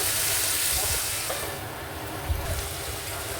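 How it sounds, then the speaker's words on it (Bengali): Potatoes fry in a pan with onion and sugar, giving a loud, steady hiss that fades a little partway through and carries a soft knock near the end. "আলুটা একটু ভাজা হয়ে যাক।"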